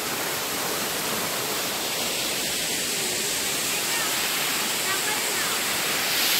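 Thusharagiri waterfall roars in a loud, steady, unbroken rush of falling water, heard from close by and filling the whole scene.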